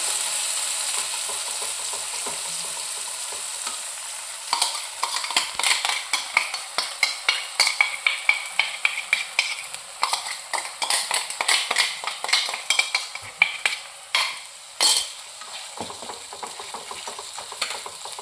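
Spice masala roasts in hot oil with a soft steady sizzle, then a long run of rapid scraping and tapping strokes as it is stirred in the pan, with a louder knock near the end.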